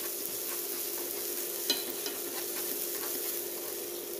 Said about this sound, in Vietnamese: Bây giờ dầu nóng mình cho tỏi vào